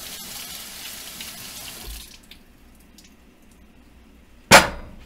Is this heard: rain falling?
no